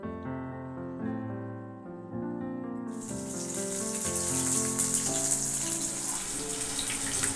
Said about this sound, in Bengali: তারপর এগুলোকে একটা একটা করে দিয়ে ভেজে নিতে হবে।